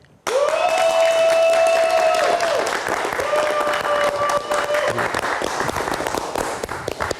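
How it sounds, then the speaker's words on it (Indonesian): An audience at a live poetry night breaks into sudden loud applause that holds steady for several seconds, with sustained whistles and cheers rising over the clapping. "Kita berikan tepuk tangan sekali lagi"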